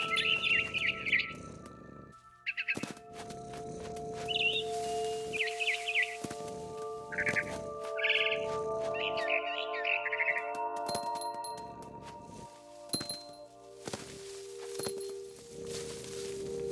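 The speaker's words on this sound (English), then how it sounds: "Then I heard chirping outside my window. It was a barn swallow going back to her nest." Barn swallow chirping outside a window in the video game What Remains of Edith Finch, with bright, repeated tweets in short bursts over a steady ambient game drone, plus a few soft thumps and footsteps.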